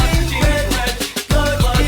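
An Animal Collective track from Painting With plays loud and dense, with heavily processed, chopped vocals riding over thumping beats in a busy, continuous mix.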